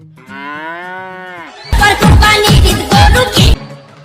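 Cows in Ireland give one long, drawn-out moo, followed by a loud, dense burst of other noise that lasts about two seconds before it cuts off.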